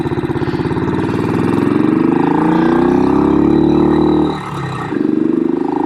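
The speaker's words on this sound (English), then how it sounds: "1970 BSA Victor Special 441." A 1970 BSA Victor Special 441 long-stroke single-cylinder motorcycle engine runs close by with a loud, throbbing thump. It revs up and holds, then briefly drops off and returns to a pulsing idle.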